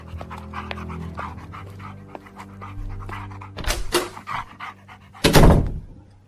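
A dog panting close by in a spoken horror story, steady quick breaths with a couple of louder bursts of rustling movement near the end and no talk over it.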